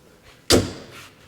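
Car door on a project car with newly installed weatherstrip shutting once with a solid, dull thud, followed by a short low decay and faint room sound, close and with no talking.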